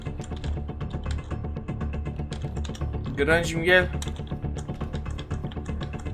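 Continuous rapid computer keyboard typing, with dense clicking keystrokes close to the mic and a steady rhythm throughout, as a voice talks briefly in the middle.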